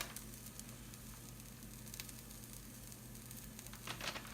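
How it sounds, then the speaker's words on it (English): A quiet, steady hiss of an Asian stir fry in a hot pan, a faint continuous sizzle with a few soft crackles rising near the end. "And then I'm gonna throw in my Asian stir fry."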